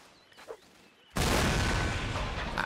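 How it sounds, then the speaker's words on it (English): A cannon in a Mount & Blade North & South line battle fires with a sudden loud blast that swells and rumbles on to the end after a quiet opening. "That lovely report from the cannon"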